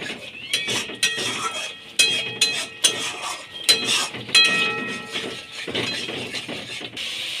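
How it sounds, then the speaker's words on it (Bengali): Spice paste with chilli powder and sugar is stir-fried in a pan, with repeated close metallic clinks and scrapes of a spoon against the pan in an uneven rhythm and a soft cooking hiss underneath. "এবার ভালো করে মশলাটা কষিয়ে নিতে হবে।"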